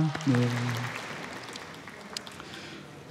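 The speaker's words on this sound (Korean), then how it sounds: "하나님께 영광의 박수로 마치도록 하겠습니다." A church congregation gives a short round of applause, a brief burst of clapping that fades quickly, with some voices mixed in.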